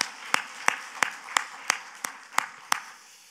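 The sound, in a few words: congregation applauding in church worship service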